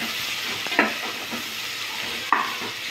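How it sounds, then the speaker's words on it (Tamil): Sliced onions sizzle and fry in a pan for mutton biryani, a steady crackling hiss broken by two sharp scrapes of stirring, close and with no talk. "வெங்காயம் நல்லா வதங்கணும்,"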